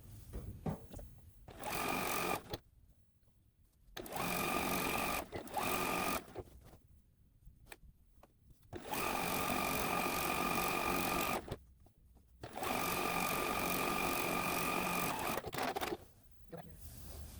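A sewing machine stitches a quarter-inch quilt seam on a Christmas tree quilt top. Close, steady mechanical whirring runs in several bursts of a few seconds each, separated by quiet pauses.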